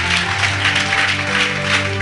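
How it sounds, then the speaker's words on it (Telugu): A church congregation claps together, sustained dense applause from a crowd inside the hall, steady and loud for a couple of seconds. "చప్పట్లు కొడదాం."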